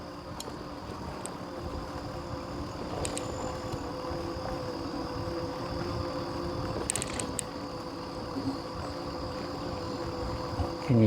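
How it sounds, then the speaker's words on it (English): Frogs or cicadas chirping outdoors, a steady high buzzing drone with a few brief bursts, faint and continuous beneath low background rumble. "I can hear I don't know if they're frogs, cicadas."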